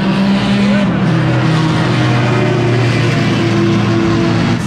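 Race cars at a Daytona Classic event, engines droning loud and steady throughout with a continuous mechanical roar and faint tyre noise, a voice talking underneath.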